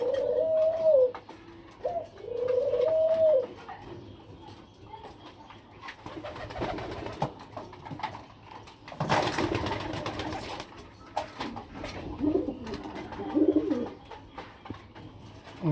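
Spotted dove cooing on a rooftop, a few soft rhythmic hooting phrases near the start and again later, with a noisy rustling patch in between.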